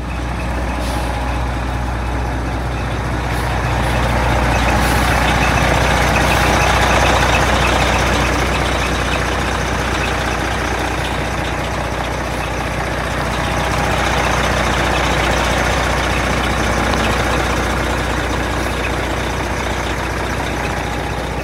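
A Prevost coach reverses slowly in a yard, its heavy diesel engine rumbling steadily and loud throughout, with a reversing beeper and hissing air-brake releases over the drone.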